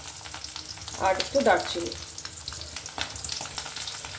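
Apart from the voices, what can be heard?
bay leaf, dried chilli, cardamom sizzling in hot oil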